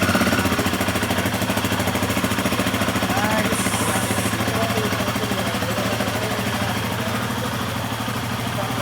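A new Royal Enfield Himalayan 450 motorcycle engine idles steadily after starting, a loud, even mechanical chugging throughout with no pauses.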